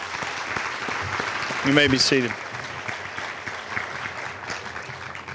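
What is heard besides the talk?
audience applause at a graduation ceremony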